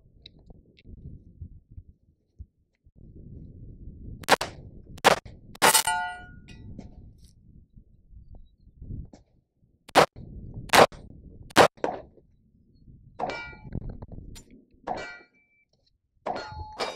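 Sharp metallic clangs of gunshots striking a steel target ring out one at a time in an irregular series, loud and close, with quiet outdoor rumble in between and no talking.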